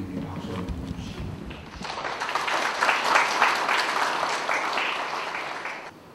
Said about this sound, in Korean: 우선 우리 해철 스님에게 박수 한번 주시기